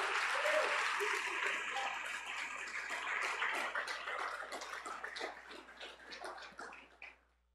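Church congregation applauding during an evening family service, a dense, steady burst of clapping that thins out and stops abruptly near the end.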